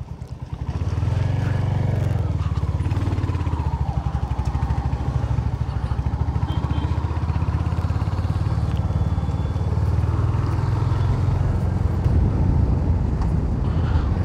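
Motorcycle engine droning steadily while riding on a road in Purulia, a continuous loud rumble with wind buffeting the microphone throughout.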